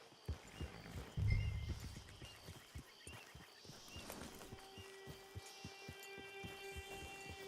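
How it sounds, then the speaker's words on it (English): A horse in the video game Red Dead Redemption 2 Online clip-clops with steady hoofbeats and snorts, plus a brief whinny early on, moderately close under quiet game ambience. "Get your horse."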